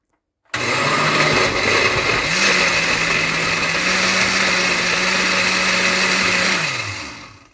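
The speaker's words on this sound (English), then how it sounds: "last button, which is ice crusher, so that the dates can get really well crushed" A blender on its ice-crusher setting crushes dates in a steady, loud motor whine with a rough grinding texture, its pitch stepping up partway through and dropping near the end, running alone without talk.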